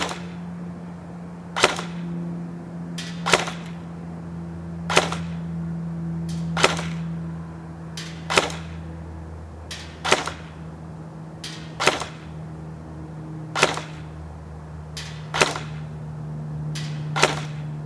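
A JG SIG 552 airsoft gun fires BBs at a distant target in about a dozen sharp, evenly spaced snapping shots over a steady low motor hum, close and loud against quiet surroundings.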